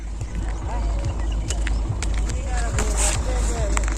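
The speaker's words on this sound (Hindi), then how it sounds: "एक ऊंट गाड़ी जाओ आगे," Camel cart on a Rajasthan village road, hooves clopping in an irregular rhythm with creaks and rattles of the cart close by, under steady outdoor background noise.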